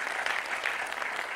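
A brief burst of steady, dense audience applause greets a singer at a comedy show's tenth-anniversary celebration, filling the whole moment without a break.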